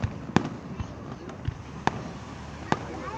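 Fireworks bursting outdoors on July 4th, several sharp booms spaced irregularly over a steady background hum, with a few fainter pops between the louder explosions.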